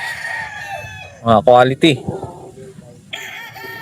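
Gamefowl roosters at a game farm crow in a few loud, close bursts with harmonic calls, set against constant outdoor background and bits of nearby talk.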